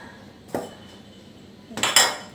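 A knife cuts chili stems on a cutting board, giving a single sharp knock followed by a cluster of three quick chopping taps, close and clear against a quiet kitchen background.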